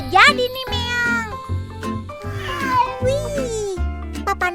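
Animated cartoon cat voice meowing in a high, bending tone, several drawn-out meows in a row, loud and close over a bed of cheerful background music.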